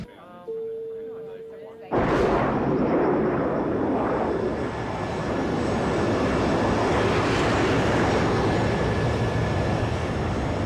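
Airliner engines in flight hold a loud, steady broadband roar after a quiet tone, with a voice speaking at the start.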